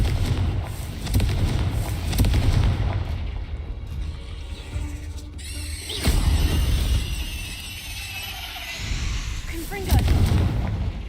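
Fire spells cast in Hogwarts Legacy burst in booming blasts over a dense game soundscape and music, with the loudest hits landing around the middle and end of the stretch.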